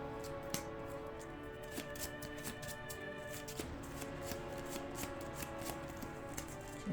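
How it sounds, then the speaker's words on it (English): Playing cards shuffled repeatedly during a Marvel card game session, giving a steady riffling texture with sharp snapping bursts throughout, close and fairly quiet. "I shuffle, I reveal the top card, and then shuffle this in."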